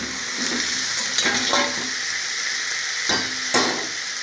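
Spinach fries in a pan with a loud, steady sizzle while a utensil stirs it, adding several brief scraping bursts.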